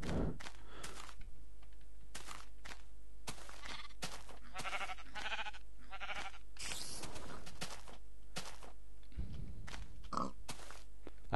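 Blocky Minecraft sheep bleat faintly among other quiet game sounds and scattered clicking, in short separate bursts.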